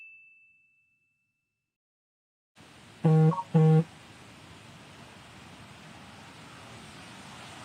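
A Fitbit Inspire HR sounds two quick, clear notification dings in close succession over faint background room and traffic noise, following a brief soft tone and a stretch of silence.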